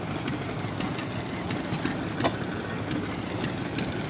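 A small antique engine at an engine swap meet chugs and ticks steadily nearby, with faint sharp clicks and knocks over a low running drone; no one speaks.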